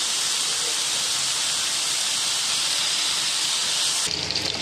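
Chicken frying in hot oil in a pan, a loud continuous bright sizzle close up, steady throughout before changing abruptly near the end.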